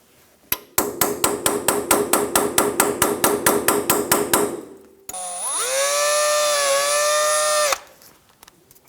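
Hammer blows on a punch driving the cotter pin out of a ball joint on a 2000-2006 Toyota Tundra front suspension: about fifteen sharp metallic strikes in a quick, steady rhythm, then a sustained whining tone after they stop.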